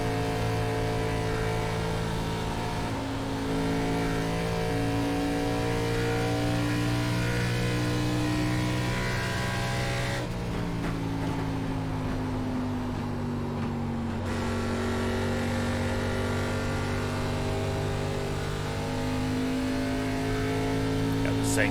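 Race car engine from an ARCA Series stock car in iRacing at Darlington Raceway, a steady loud sustained drone with layered harmonics that holds high throttle, dips briefly, then climbs again, with a voice talking over it.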